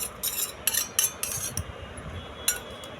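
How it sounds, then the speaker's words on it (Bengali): A spoon clinks rapidly against a bowl while stirring raw milk and honey together, a quick series of bright metallic taps close by, with no talking. "এবার এই দুটো জিনিসকে একসঙ্গে খুব ভালো করে মিশিয়ে নেব।"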